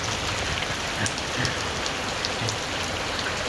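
Heavy rain pours down in a dense, unbroken hiss that stays loud and steady throughout, with no voices.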